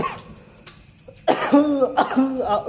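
After a quiet moment, a few harsh, throaty coughs sound close by in quick succession.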